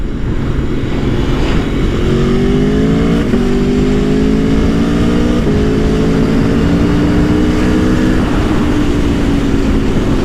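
A 2018 Aprilia Tuono Factory sport motorcycle engine roars loudly and steadily, its pitch climbing through the gears with short dips at each shift.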